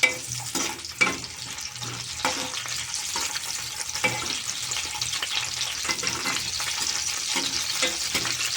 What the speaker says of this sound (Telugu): ఆయిల్ హీట్ అయిన తర్వాత ఎండు చేప ముక్కలు